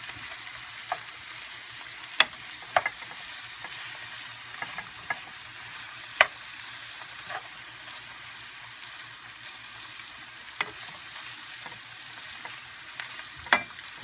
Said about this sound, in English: we're going to brown the sausages